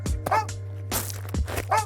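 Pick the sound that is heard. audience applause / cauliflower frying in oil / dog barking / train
dog barking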